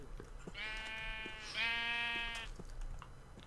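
A Minecraft sheep bleats twice in a row, two drawn-out wavering calls close by against faint background game sounds and light taps.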